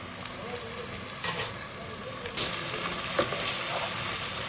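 Onions frying in a pan with a spoonful of salt while a chicken tehari is being made: a steady, dense sizzle runs throughout, with occasional louder crackles and scraping stirs and no voices.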